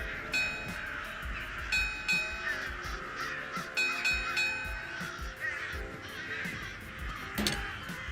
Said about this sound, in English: You'll know which mausoleum is the correct one by the murder of crows circling up above.